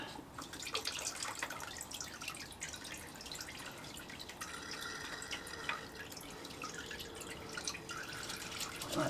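Engine oil drains from a Honda CB650R motorcycle in a thin, steady trickling stream with faint drips, quiet and close, with no talk over it.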